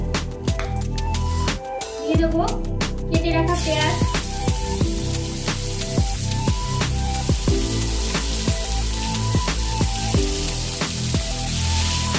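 Bay leaf and a dried red chilli sizzle in hot mustard oil, a loud, steady frying hiss that stays constant throughout, with a rhythmic tune playing over it.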